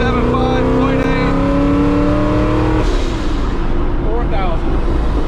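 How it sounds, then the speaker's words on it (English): A supercharged Chevrolet Camaro on a wide-open-throttle tuning pull, its engine note climbing loudly and steadily in pitch before dropping off abruptly, heard close and dominant throughout. "We just got cleared for the first wide open throttle pull in the car."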